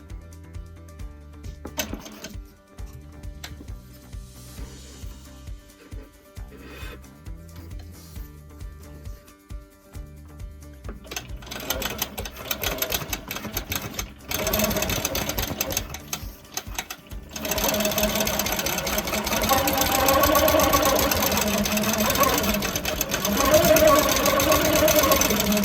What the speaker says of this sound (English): next I will do the horizontal basting with the horizontal channel lock